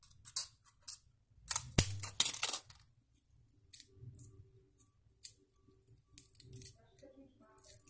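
Scissors snip off a piece of material while a touch pen for a touchscreen is being made, giving a few sharp close cuts and clicks around the two-second mark amid quiet handling noises.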